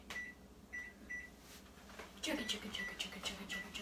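A microwave oven hums with a few sharp beeps as buttons are pressed, while a person talks nearby at moderate volume.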